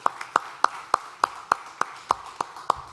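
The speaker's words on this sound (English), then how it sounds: "Please give a big round of applause to Massimo Morini" Clapping at a conference stage event (South Summit): a steady, evenly spaced run of about ten sharp, distinct claps, close and clear rather than a dense crowd roar.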